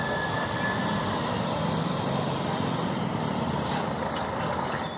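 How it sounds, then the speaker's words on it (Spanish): Police helicopter Halcón 1 patrolling slowly over Siloé in Cali, Colombia, a steady loud rotor and engine drone overhead that holds for about five seconds, with faint street noise underneath. "Va lento este helicóptero que está patrullando por los cielos"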